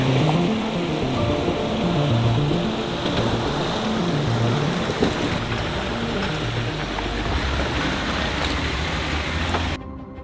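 An overland vehicle pushes through muddy water on a rough backcountry trail, a steady engine drone under continuous sloshing and splashing that runs close and loud for about ten seconds before cutting off.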